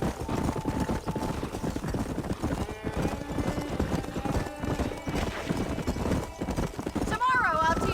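Horses from the video game Red Dead Redemption gallop with steady clip-clop hoofbeats throughout, ending with a loud whinny, while people talk over the hoofbeats.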